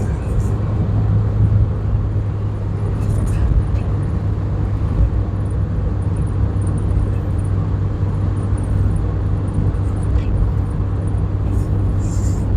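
A Mazda Miata drives on mountain roads, its engine a steady loud rumble with continuous road and wind noise throughout, no distinct voices.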